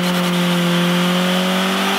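A turbocharged car engine runs with a loud, steady drone and sustained tonal whine that holds even throughout, with no talking.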